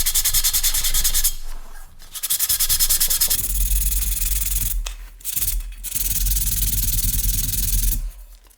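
Sanding the fount of a 1940s AGM KampLite RL-3 lantern with 400 grit sandpaper, close rhythmic rubbing strokes in a steady back-and-forth pattern with brief pauses, no talking.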